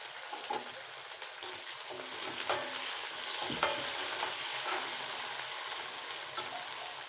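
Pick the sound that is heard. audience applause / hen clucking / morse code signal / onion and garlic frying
onion and garlic frying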